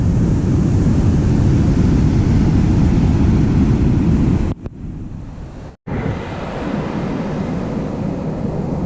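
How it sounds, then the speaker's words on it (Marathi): Rough monsoon-season sea surf crashing close on the shore, a loud continuous roar with heavy wind buffeting the microphone, briefly dipping twice before the surging waves resume. "समुद्राची लाटा बघा"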